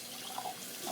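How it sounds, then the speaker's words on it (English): Warm tap water running from a faucet into a neti pot, a steady close splashing stream filling the vessel without pause, with no talking. "you fill it with warm water"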